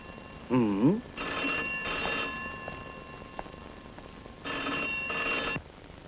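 A telephone rings in three bursts of bright electronic trilling separated by pauses, with a brief voice-like warble just before the first ring.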